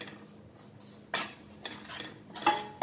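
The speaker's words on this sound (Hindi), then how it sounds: "गुड़ का पाउडर या बारीक कटा हुआ गुड़ ऐड कर देना है और इसे अच्छे से मिक्स कर देना है" A spoon scrapes and clinks against a pan as jaggery powder is mixed into a hot dry ginger mixture, with a few separate clattering strokes close by and no talk.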